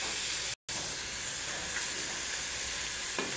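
Green beans go into a hot frying pan with chicken, giving a steady, close sizzling hiss throughout, with a soft clatter near the end.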